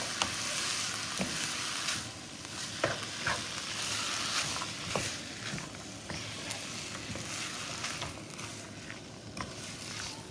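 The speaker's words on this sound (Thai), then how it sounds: "แล้วก็ใส่ข้าวลงไป นะคะ ให้เข้ากัน" Rice being stirred into a sizzling mixture in a pot, a continuous scraping, rustling stir over soft frying crackle with irregular clicks of the utensil, fairly quiet and with no talking.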